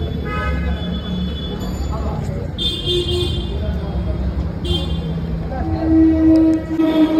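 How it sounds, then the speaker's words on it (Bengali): A train rumbles past nearby with a steady low roar and rattling, a horn-like tone sounding briefly toward the end amid background chatter. "এখানে ট্রেন যাচ্ছে"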